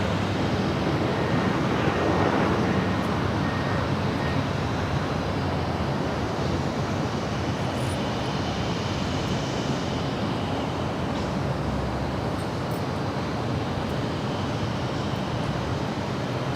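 A United Airlines 787-9 Dreamliner jet departs LAX, its engines a steady, broad roaring rumble heard from a distance outdoors, with wind over the microphone and no voices.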